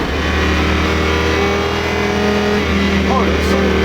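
An ABT XGT race car's engine revs loudly and steadily under way, its dense mechanical roar filling the whole stretch with a brief rising whine near the end.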